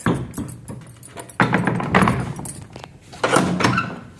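A room door is pushed shut in a house after rooftop cleaning, with several close wooden thuds, knocks and rattles and a firmer slam-like bang or two among lighter taps.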